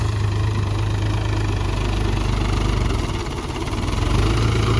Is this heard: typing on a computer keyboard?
no